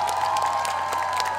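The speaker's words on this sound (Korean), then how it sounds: "우리 이 자리를 또 협조해주신, 또 만들어주신 의장님께 큰 박수 좀 부탁드립니다" An outdoor summer night concert audience applauds steadily throughout, a dense wash of many clapping hands with scattered cheers and children's shouts, crowd-sized and continuous.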